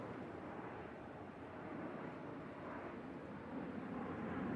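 A Bombardier Global 8000 business jet flies over the Farnborough International airshow, a steady broad roar of distant jet engine noise that swells slightly toward the end, with no voices.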